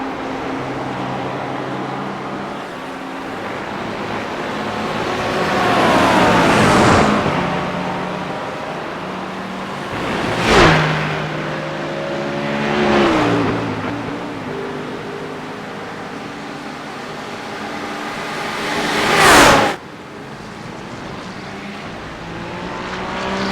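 GT3 race cars roar around Monza in a racing game, several engines rising and falling in pitch as cars sweep past close by in distinct loud passes, over a constant bed of engine noise.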